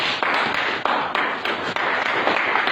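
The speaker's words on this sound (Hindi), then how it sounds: "उस प्रभु के लिए ताली तो बजाओ।" A congregation claps in a dense, continuous wave of applause with rhythmic surges, close and fairly loud, and no voices over it.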